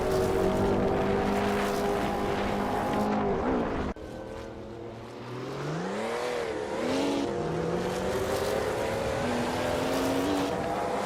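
A 1986 Porsche 961 LM race car's engine in a racing video game, loud and continuous, revving up and down through gear changes with a brief dip in the middle, then climbing again.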